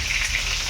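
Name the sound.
potatoes frying in mustard oil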